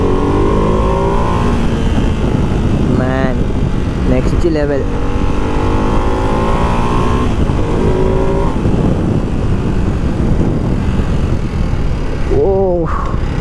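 A Ducati Hypermotard 698 Mono single-cylinder motorcycle revs on the move, its engine note sweeping up several times in sharp bursts over steady road and wind noise, while a rider talks loudly throughout.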